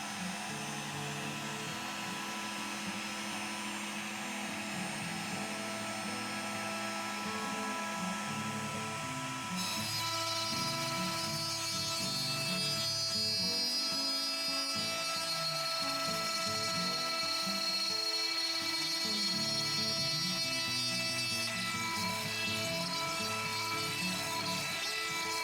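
A router fitted with a 6 mm bit hums and whines continuously as it roughs out a 1.8 mm deep rosette channel in a guitar top, a steady loud mechanical drone with shifting pitch from the cutting load.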